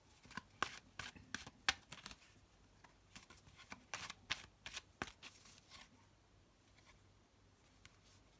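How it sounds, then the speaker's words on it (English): Quiet, soft riffling and shuffling of tarot cards in bursts, close up, with no talking. "I'm going to do a little bit more shuffling now."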